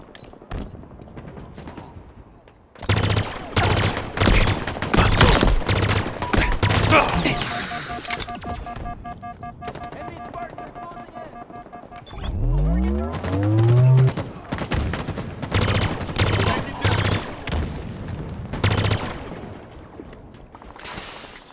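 Halo Infinite bot slayer match gunfire, with Pulse Carbine and Needler in play: dense rapid bursts of shots come in clusters, broken by electronic tones and a rising whooshing sweep partway through.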